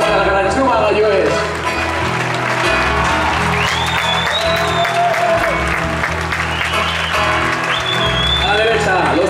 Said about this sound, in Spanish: ¡Fuerte aplauso para la gran Chuma Gallues!